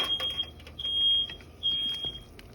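A smoke alarm beeps in high, piercing intermittent tones over faint clattering and background noise in a kitchen while noodles cook for soup.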